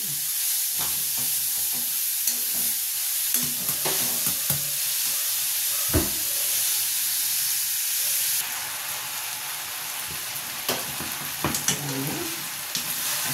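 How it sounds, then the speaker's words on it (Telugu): Carrots and sago frying in a pan give a constant loud sizzle, broken by scraping stirs and occasional clinks of the spoon against the pan. "క్యారెట్ మగ్గినవి కదా, ఈ సగ్గుబియ్యం ఇప్పుడే వేసాను"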